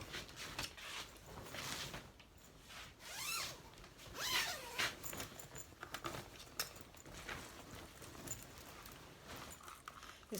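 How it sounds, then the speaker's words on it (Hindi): A zipper on a wedding dress is drawn open in several short, quiet rasping pulls with pauses and faint rustling between them. "इसकी ज़िप निकालती हूँ।"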